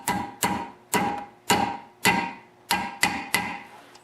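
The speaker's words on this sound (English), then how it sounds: "I'm just going to tap it lightly with a brass hammer" Light, evenly paced taps of a brass hammer drive a shaft key into a snowblower auger worm gear, eight crisp metallic knocks at close range with short ringing decays.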